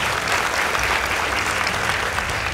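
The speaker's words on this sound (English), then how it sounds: "Please give them a round of applause." A school audience gives steady, dense applause for a high school debate team, sustained clapping at even loudness throughout with no voices over it.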